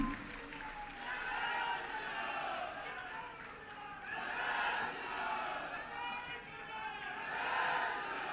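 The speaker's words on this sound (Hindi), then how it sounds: "मैं उत्तर प्रदेश के यशस्वी मुख्यमंत्री योगी जी का अभिनंदन भी करना चाहूंगा और आपसे कहूंगा तालियां बजाकर कीजिए" An audience at a public gathering applauds and cheers for Chief Minister Yogi Adityanath, a dense, distant-sounding crowd roar that swells and eases in waves for several seconds with no clear speech.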